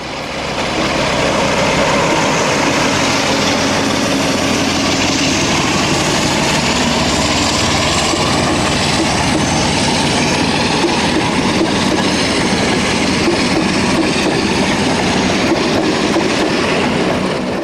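A British diesel locomotive roars loudly and continuously close by, a dense, unbroken engine thrash with rumbling rail noise underneath that barely changes for the whole stretch.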